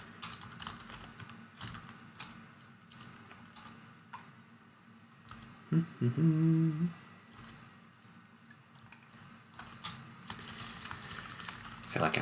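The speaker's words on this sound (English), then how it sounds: "feel like I'm typing this URL so many times now" A URL being typed on a computer keyboard comes through as steady, rapid close-up key clicks that run under a man's speech through the whole stretch.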